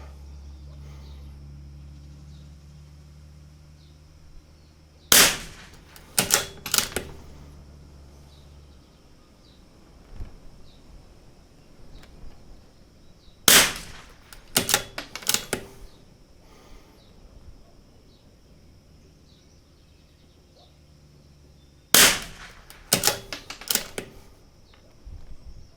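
A CZ 457 rifle firing Eley match ammunition at an outdoor range. Three sharp, loud reports sit about eight seconds apart, each followed by short echoing clatter and handling sounds, over a faint steady hum.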